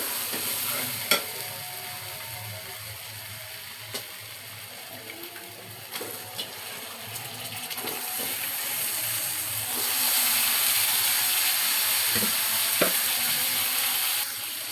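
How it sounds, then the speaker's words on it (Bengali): Beef frying in a pan for biryani, a steady close sizzle with occasional stirring scrapes and clinks, the hiss growing a little louder toward the end. "ভালো করে একটু কষিয়ে আমি মাংসটা দিয়ে দিব।"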